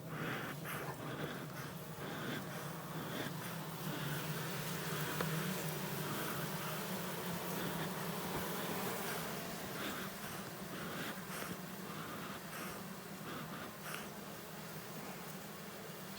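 Honey bees agitated by smoke from a beekeeper's smoker buzz in a faint, steady hum that carries on without a break.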